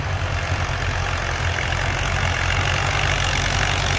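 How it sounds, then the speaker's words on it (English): An old, smoking diesel tractor that was recently overhauled and is being broken in at a plow day runs steadily and loudly nearby, with a deep, continuous rumbling idle and no talking. "All right, here comes the old smoking diesel"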